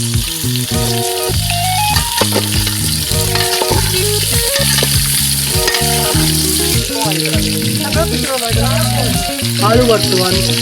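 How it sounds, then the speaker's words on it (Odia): Potatoes sizzle and crackle in hot oil in a village cooking setting, a continuous frying hiss under louder music that plays throughout. "ଆଳୁ ବର୍ତ୍ତମାନ ତେଲରେ ଭଜା ଯାଉଛି"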